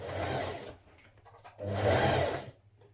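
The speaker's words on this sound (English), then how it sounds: "Now stitch that in position with a 1 centimetre seam" A domestic sewing machine stitches a sweatshirt pocket seam in two close bursts of fast, steady whirring, about a second each, with a short near-silent pause between them.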